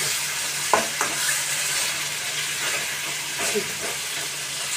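Chicken pieces for kala chicken shallow-frying in hot oil: a steady, close sizzle with a dense hiss throughout, punctuated by a few faint pops and light stirring clinks, with no voices.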